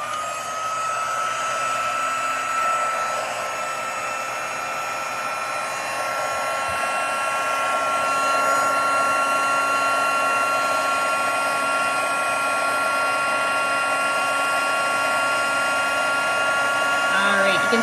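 Heat tool used for card embossing runs steadily for nearly twenty seconds, a loud continuous whirring blower hum like a hair dryer with a high whine on top, with a person talking faintly underneath.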